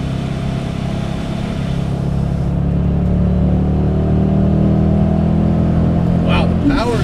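Supercharged 2006 Ford Mustang GT engine under light throttle on the highway, a steady loud low drone with road noise inside the cabin, building slightly.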